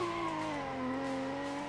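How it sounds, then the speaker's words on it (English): A race car engine revs during a qualifying session at a motorsport event, holding a sustained, loud, buzzing drone whose pitch sags slightly and then steadies. "Also revving his engine there."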